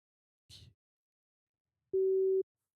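A single steady electronic ringback tone on an outgoing telephone call, one sustained beep of about half a second coming after a short muffled handling noise, otherwise quiet.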